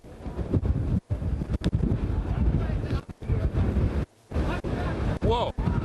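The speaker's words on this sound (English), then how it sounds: "Whoa, a huge gust just came up here" Strong wind gusts roar across the 15 Freeway in the Inland Empire, where winds are toppling big rigs; loud, choppy buffeting batters the microphone in surges, cutting out briefly between blasts.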